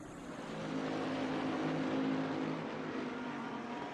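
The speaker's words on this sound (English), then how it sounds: "Just heard some revving going on there" A GT3 race car engine revs in the pit lane of a racing video game, a steady droning roar that swells after the first half second and holds at a fairly loud level, with no talk.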